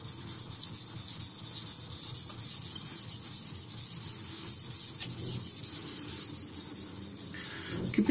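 A Tojiro Shirogami nakiri knife is sharpened on a King whetstone with slurry, giving a steady, close, gritty scraping and rubbing that continues without pause, with faint apartment background noise.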